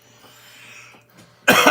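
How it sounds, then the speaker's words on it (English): A single loud, harsh cough bursts out near the end after a quiet, nearly silent stretch, close to the microphone. "I'm going to cough, so excuse me."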